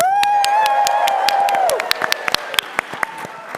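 A convention audience at PAX East 2025 claps and applauds briskly for a few seconds during a game show, with a high sustained tone fading out early on.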